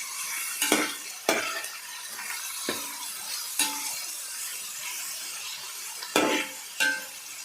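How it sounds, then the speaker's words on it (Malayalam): Duck fry stirred in a pan with a spoon: irregular scraping strokes and clinks over a soft, steady sizzle, fairly close, with no one talking. "നമ്മളതൊന്ന് ഇളക്കി കൊടുക്കാം"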